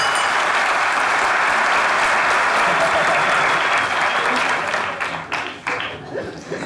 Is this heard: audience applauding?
yes